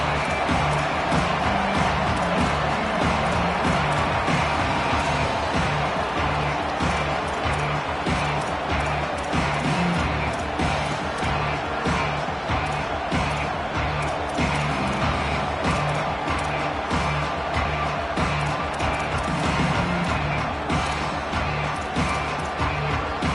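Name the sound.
stadium crowd cheering at a Fighting Irish football game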